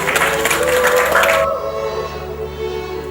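An audience applauds a Deputy Minister after a keynote health-insurance speech at a seminar: a dense burst of clapping for about a second and a half, then it drops away to quiet room tone.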